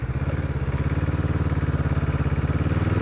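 A 1984 GR650 motorcycle engine running while being ridden, a loud, steady, close low rumble with an even pulsing beat throughout and no voices.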